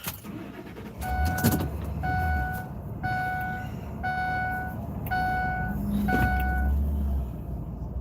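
A truck parked near a stadium is moved, with a regular electronic beeping repeating about once a second over a low vehicle rumble and wind, the engine swelling briefly twice.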